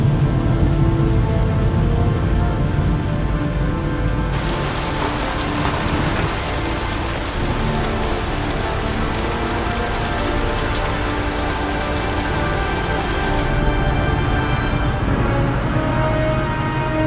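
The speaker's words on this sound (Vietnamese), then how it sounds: "Chà, mưa tầm tải à." Heavy, steady downpour in the video game Heavy Rain, a dense, loud hiss of rain on surfaces that continues unbroken throughout, with no voices.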